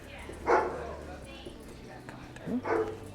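A fearful shelter dog gives two short, loud barks or yips about two seconds apart, with a trainer's voice murmuring in between.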